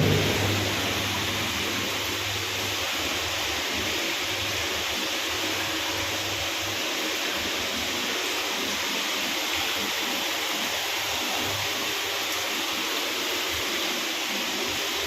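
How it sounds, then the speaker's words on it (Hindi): A jacuzzi's water jets rush in a continuous, loud hiss of churning water over a low motor hum, steady throughout. "इस पहला मोटर को ऑन करते हैं, जो पानी इससे प्रेशर में निकलेगा।"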